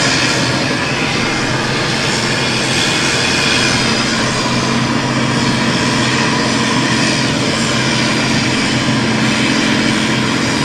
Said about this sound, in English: And the spit starting its engines, the sounds here.